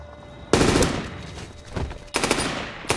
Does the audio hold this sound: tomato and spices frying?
no